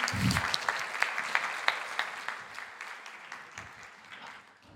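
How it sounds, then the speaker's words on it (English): Conference audience applauding in a hall before a talk, a steady patter of many hands clapping with sharp individual claps, fading out toward the end. "Applause."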